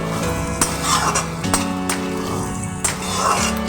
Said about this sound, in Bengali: হালকা করে আমি ভেজে নেব